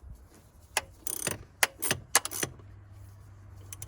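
Tools tighten bolts on a Mercedes W123 240 Diesel during a service, giving a handful of sharp metallic clicks and short ratcheting bursts, close and irregular, over a quiet background.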